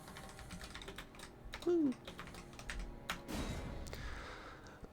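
Soft keystrokes tap out a name on a keyboard in short, quiet bursts, and a voice briefly exclaims.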